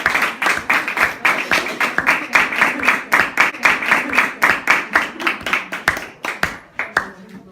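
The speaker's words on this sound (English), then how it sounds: "would you please give them a big round of applause?" Audience applause for debaters at a debate event: a run of loud, distinct close claps at a steady rhythm, fading into scattered final claps near the end.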